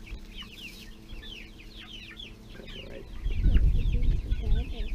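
Rhode Island Red roosters clucking and chattering in a farmyard, with bird calls overhead and a louder burst of low rustling and clucking near the end.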